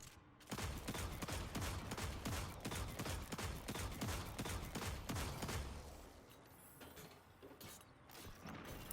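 Rapid gunfire in the sci-fi shooter Destiny 2: dense, fast repeated shots in a sustained burst, loud and close, thinning out into scattered shots and mechanical clatter toward the end, with no talk.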